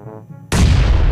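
A frag grenade detonates in PUBG Mobile with a sudden, loud, broadband blast that fills the rest of the moment, preceded by a faint low hum.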